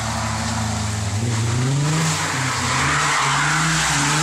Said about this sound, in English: Oh, and he's spun out.